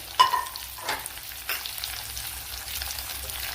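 Finely chopped medium-size onion (savala) going into hot oil in a pan for egg roast, a loud sizzling burst at the start that settles into a steady frying hiss with a few stirring scrapes, no talking.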